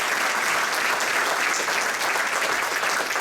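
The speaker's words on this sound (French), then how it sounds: "Je vous demanderai de les applaudir chaleureusement" Warm applause from the audience at a foundation gala, a loud, dense and sustained burst of clapping that fills the hall at a steady level from start to finish.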